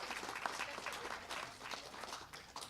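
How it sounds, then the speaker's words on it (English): Audience applause for chamber board members standing at a chamber of commerce breakfast, a steady wash of clapping from a room of people that holds through the whole stretch with small swells, fairly quiet and even. "Please give them a round of applause."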